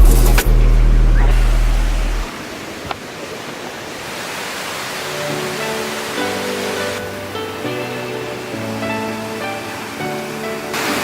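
A massive tropical waterfall in India roars with a dense, steady rush of falling water, loudest at the start, then continuing as a softer wash beneath sustained musical tones.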